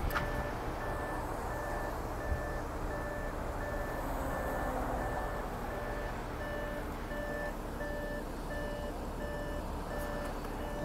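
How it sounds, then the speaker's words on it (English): A steady warning chime repeats inside a 2013 Audi A7, a rhythmic beeping that runs evenly for the whole stretch over a low background hum, moderately loud and close with no talking. "I'll get that beeping to go away here in a second."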